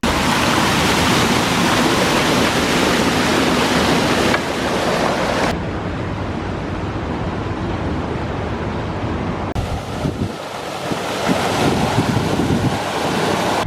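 Water rushes loudly and continuously through and over a canal lock gate on a narrowboat waterway, a steady broadband roar with wind buffeting the microphone, easing slightly partway through but never stopping.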